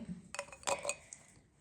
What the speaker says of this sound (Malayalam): ഈ വൈൻ ഗ്ലാസ്സിലേക്ക് നമുക്ക് ക്രിസ്മസ് ബോൾസ് കുറച്ചിങ്ങനെ ഇട്ട് കൊടുക്കാം